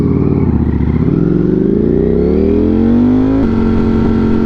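A hot Italian motorcycle revs loudly and close by on a sunny road during a commute. The engine pitch climbs steadily through a gear, then settles after a shift, with no talk.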